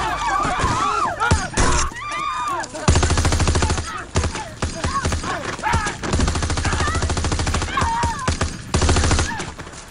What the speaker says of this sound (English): He opens fire on his own convoy.